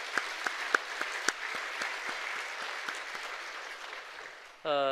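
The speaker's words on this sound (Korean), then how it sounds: "귀한 말씀 주신 우리 신일웅 목사님에게 박수로 한번 감사드리겠습니다." A church congregation at an afternoon service claps to thank Pastor Shin Il-woong, soft scattered applause with a few sharp individual claps standing out, followed at the end by a voice speaking up.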